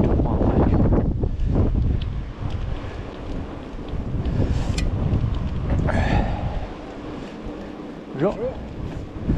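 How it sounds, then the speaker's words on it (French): Strong gusting wind during Storm Ciaran buffets a mountain biker on the trail, roaring loudly throughout with a brief dip in the middle, while someone talks over it. "Ah, du vent, ça me pousse sur le côté."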